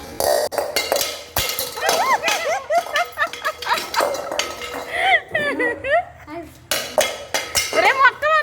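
Vikki the dog plays by knocking metal bowls together, making repeated loud clanks and clinks in irregular bursts, while someone talks over the clatter throughout.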